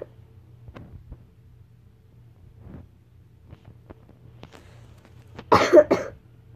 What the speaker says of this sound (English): I'm sort of sick, so I'm going to be coughing a lot